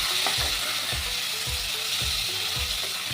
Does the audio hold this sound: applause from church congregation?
no